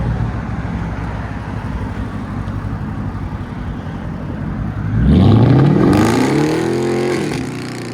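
A 2020 Dodge Charger SRT with a 5.7 liter HEMI and 3-inch straight pipes starts with a low idle rumble, then roars loudly as it accelerates hard, the engine note sweeping sharply upward and staying loud.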